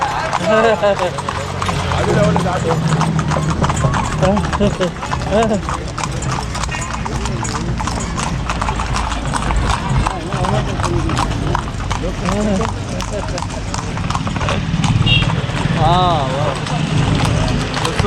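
Horse hooves clip-clop steadily as a horse pulls a carriage through the streets of Luxor, Egypt, a close continuous rhythmic trotting that runs under constant conversation from the riders.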